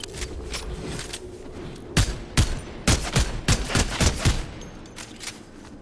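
Gunfire in the video game Fortnite, a cluster of loud sharp shots fired in quick succession after a quieter stretch of faint background battle noise.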